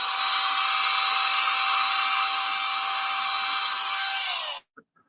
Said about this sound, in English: Roloff is using a Makita shop vac